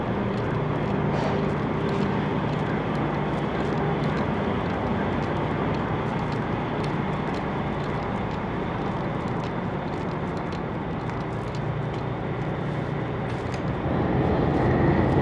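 Engine of the Rabbit Island ferry to Okunoshima pulling away from the dock, a steady, loud, continuous low drone and rumble that holds throughout and swells slightly toward the end.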